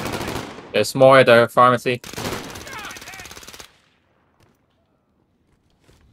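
Gunfire from the video game Call of Duty: Modern Warfare (2019) crackles in quick bursts over an in-game voice line. After a few seconds it cuts off abruptly into near silence.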